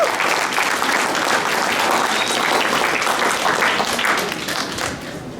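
Classroom audience applauding after a student class presentation at a college, a dense, steady burst of many hands clapping that holds loud for several seconds before easing slightly at the end.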